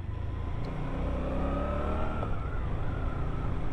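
A Suzuki GSX-8S middleweight motorcycle rides through a small village, its engine droning steadily and fairly loud throughout, with a faint rising whine as the revs climb.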